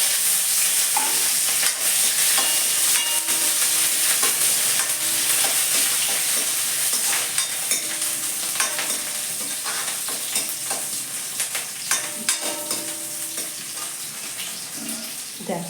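Green chillies and ginger dropped into hot oil give a loud, continuous sizzle and crackle that runs unbroken, with occasional stirring clicks over the top.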